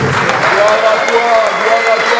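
A church congregation cheers and applauds God, a dense, loud wash of clapping and voices that holds steady throughout, with crowd noise blending into the applause.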